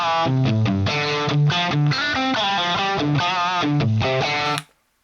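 A distorted electric guitar riff with single-coil pickups plays through a Marshall JCM800 amp, loud and close, in choppy rhythmic chord stabs that ring and then stop cleanly.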